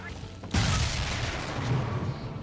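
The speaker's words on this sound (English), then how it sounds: "Mother has bombed out the ballast compressors, Father." An explosion in Bioshock 2 Remastered, blamed on bombed ballast compressors, bursts in as a sudden loud boom followed by a long, rumbling roar of debris and low-end rumble that holds steady without fading.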